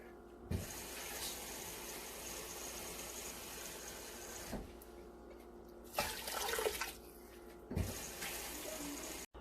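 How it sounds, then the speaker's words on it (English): Tap water pours steadily into a pot, a continuous splashing rush with a few louder surges and clunks along the way. "This is just a tap water."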